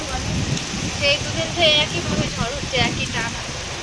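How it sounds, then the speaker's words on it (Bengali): Heavy rain from Cyclone Remal in the Sundarbans falls steadily outdoors, a dense hiss heard from indoors with a voice faintly underneath. "বৃষ্টিতে বাইরে বেরোতে পারছি না"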